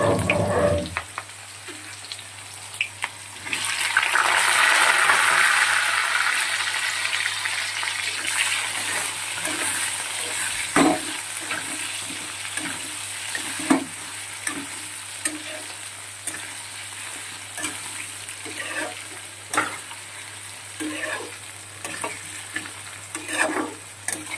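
A katla fish head fries in hot oil with whole white cumin, sizzling loudly and steadily while a utensil stirs and scrapes the pan in repeated close strokes.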